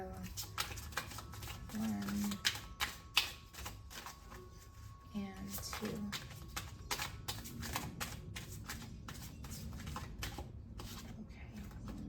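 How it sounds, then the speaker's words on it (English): Oracle cards are shuffled repeatedly in soft, rapid riffling bursts under quiet talking during a tarot-style reading, with light tapping and handling noises throughout. "we're going to keep shuffling."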